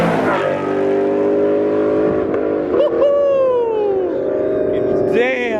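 Sports cars rev and accelerate at a Pacific Coast Highway car meet, with several rising and falling engine pitches sweeping past nearby, one sharp rev near the end, and a loud, continuous motor presence under occasional voices.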